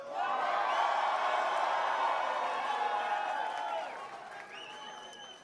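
A large audience claps and cheers in a swelling burst of applause that holds steady, then fades toward the end as a few whoops carry over it.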